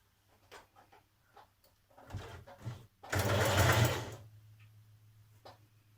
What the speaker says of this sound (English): And then we're just stitching off at an angle.